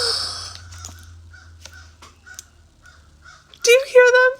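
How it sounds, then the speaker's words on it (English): Crow cawing outdoors, a few loud harsh calls bunched near the end after a long stretch of faint background noise and low hum, with quieter scattered sounds before. "Mr. Crow is outside."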